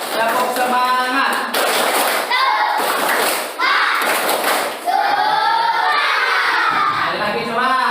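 A class of schoolchildren shouts a rhythmic 'tepuk semangat' spirit chant in unison, loud and close, with bursts of clapping and thumps between the chanted phrases and a teacher's voice starting it off.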